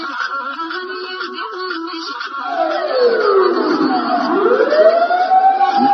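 An ambulance siren wails loudly and close by, its pitch sweeping down and back up as it passes, with nothing else heard.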